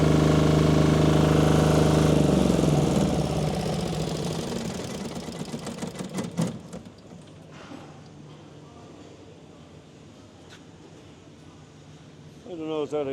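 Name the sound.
Yanmar-type engine running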